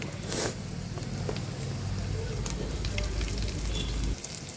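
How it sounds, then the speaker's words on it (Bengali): Sliced onion frying in a new frying pan, a steady close crackling sizzle running continuously for several seconds, then easing slightly near the end. "এই তো পেঁয়াজটা ভাজা হয়ে গেছে"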